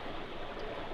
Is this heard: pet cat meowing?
no